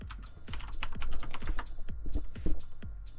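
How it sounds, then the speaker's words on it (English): A loud computer keyboard clatters through a Minecraft hide-and-seek session, with fast, uneven bursts of close, sharp keystrokes and short pauses between runs of typing. "his keyboard's really loud"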